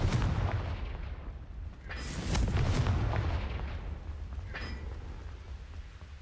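Fire-spell explosions from Confringo in the Hogwarts Legacy video game: two sharp blasts burst out over a steady low rumble, loud and close, with no voices.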